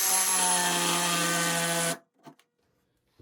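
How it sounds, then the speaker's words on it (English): A reciprocating saw cuts freehand into a wooden base cabinet with a loud, steady buzzing drone for about two seconds, then stops abruptly, leaving a few faint knocks. "So I think I will try and freehand this to get it started with my reciprocating saw."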